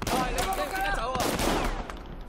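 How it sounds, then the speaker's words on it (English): Rapid assault rifle fire in the open-world action game Sleeping Dogs, a dense, loud burst of overlapping shots running almost the whole time, with a voice speaking briefly under the gunfire. "Assault rifle? Wow, you guys been packing."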